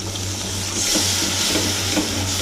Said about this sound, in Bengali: এবারে জল দিয়ে দিচ্ছি অল্প পরিমাণ